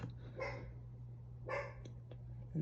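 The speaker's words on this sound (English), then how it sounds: "My dog Betty is barking now" Betty, a pet dog, barks in a few short bursts, moderately close, with a steady low hum running underneath and a brief louder sound at the end.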